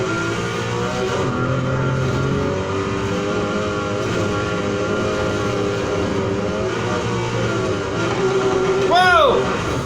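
A 1971 Nissan Skyline 2000 GT-R engine in Need for Speed Heat runs loud and steady, rising and falling as it revs, with a brief swooping whine near the end.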